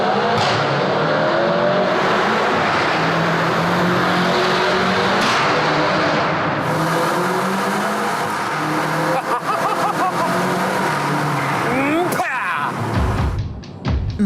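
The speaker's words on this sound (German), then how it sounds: "Kein Problem für diesen X6. Sound ist gut, dann wollen wir mal hören, wie der sich so unter Volllast anhört." A tuned BMW X6 engine pulls hard at full throttle in Abu Dhabi, a loud sustained roar with rising and shifting engine tones, ending in a sharp high rev near the close.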